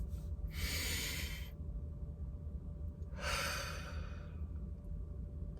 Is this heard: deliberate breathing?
yes